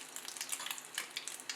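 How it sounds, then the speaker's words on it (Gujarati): Cumin seeds sizzling in melted butter and oil, a close, crisp crackle with small popping bursts running the whole short stretch, no voices. "આ જીરાને સરસ એવું સાતળી લઈશું."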